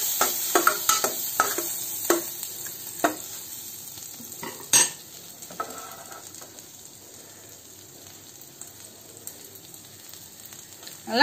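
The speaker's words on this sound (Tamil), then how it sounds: "இந்த பூண்டு ஆட் பண்ணிக்கலாங்க இப்போ இத நல்லா இந்த சீஸ்லயே வந்து இந்த பட்டர்லயே நல்லா டோஸ்ட் பண்ணிக்கோங்க" Chopped garlic and ginger toasting in butter for a millet pasta, with soft sizzling under a series of stirring and spoon-scraping clacks, one sharper clatter midway, then steadier quiet frying.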